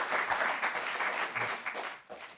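Studio audience applause at a late-night TV show, a dense wash of clapping that holds steady for a couple of seconds and then starts to fade, with no speech over it.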